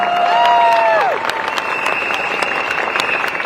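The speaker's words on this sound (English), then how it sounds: "Give them another big round of applause," A rally crowd at a PAP election gathering on the Raffles Place promenade applauds the party's new candidates, with clapping and cheering spread across the scene while whistle-like tones sound over the noise.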